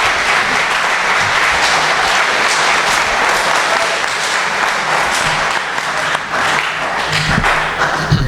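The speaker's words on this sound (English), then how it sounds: "Everybody, please give them a round of applause" An audience at a symposium breaks into sustained applause, a dense, loud wash of clapping that holds steady throughout.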